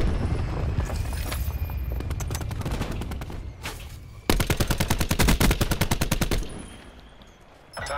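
Rapid automatic gunfire from the Call of Duty: Black Ops 4 video game, a loud sustained burst of evenly spaced shots following scattered earlier fire and game noise, then trailing off near the end.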